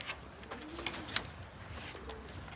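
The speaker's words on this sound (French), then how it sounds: "on élève des pigeons voyageurs et on les entraîne pour faire des courses" Racing pigeons coo on a rooftop terrace in Taroudant, Morocco, a few soft calls rising over quiet outdoor ambience with brief chirps.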